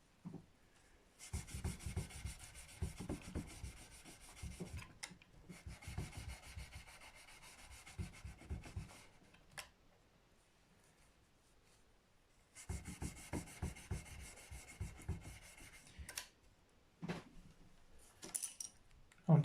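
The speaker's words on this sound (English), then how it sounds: "what else do you do to fill the silence of polishing frets?" Frets on a Gibson SG guitar are polished with quick back-and-forth rubbing strokes, a dry scratchy rhythm in two long bouts separated by a quiet pause, with occasional small taps, close and soft.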